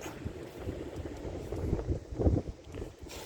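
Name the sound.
wind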